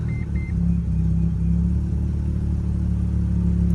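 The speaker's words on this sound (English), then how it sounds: "So that is what a stock RX-7 sounds like." A stock second-generation FC Mazda RX-7 rotary engine idles steadily just after starting, a loud continuous low rumble with a brief faint high chirp near the start.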